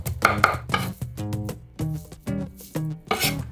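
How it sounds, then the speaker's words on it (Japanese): Kitchen knife pressing and tapping chopped condiments and herbs together on a cutting board, a series of about eight distinct, fairly loud chops in an irregular rhythm, close and without talk. "そうしたらこいつらを包丁で叩きながら合わせていく。"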